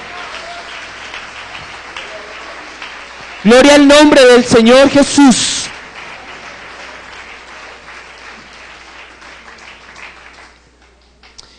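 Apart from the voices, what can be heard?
church congregation applause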